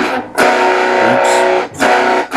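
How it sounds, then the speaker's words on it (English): Electric guitar through a Toneblaster germanium fuzz pedal, loud sustained fuzzy chords ringing out, cut by two short pauses, with no talking. "Classic germanium tone right out of the bat. Nice fuzz. Great sustain."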